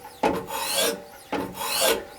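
Knife blade drawn in two quick rasping strokes across the abrasive stones of a Wicked Edge GO sharpener, each a close, gritty scrape that swells and trails off, with no talk.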